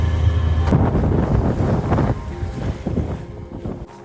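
Strong wind roars over a sailing boat at sea near a rocky Spanish coast, loud continuous gusting buffeting the microphone with waves churning underneath.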